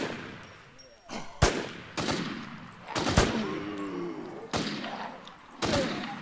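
Gunshots ring out in the DeadZ Reborn video game, five or six sharp, loud cracks spaced about a second apart over a steady background hum, with faint voices occasionally in the mix.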